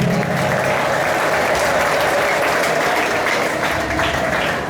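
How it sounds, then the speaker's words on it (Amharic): A church congregation breaks into loud, sustained clapping mixed with high trilling ululation, a dense close crowd sound that carries evenly from start to finish without speech. "እልልታና ጭብጨባ ለመንፈስ ቅዱስ።"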